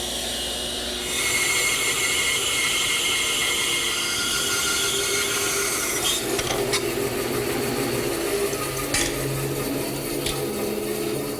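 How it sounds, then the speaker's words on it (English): A bandsaw with a guide fence cuts the cheeks of wooden tenons, a continuous close whirring drone with a hissing edge that holds steady, broken by a couple of brief sharper clicks near the end. "For the last couple of minutes I've been starting the cheek cuts of each tenon, and for that I'm using my bandsaw and a guide fence"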